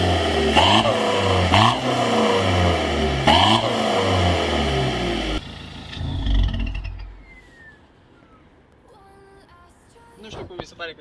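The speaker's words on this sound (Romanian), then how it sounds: "Du-te în spate să filmezi un pic evacuarea." BMW F31 320d estate with a 2.0 diesel engine, exhaust revving in several strong bursts at close range, then the engine fades to a quieter idle as a voice talks over it.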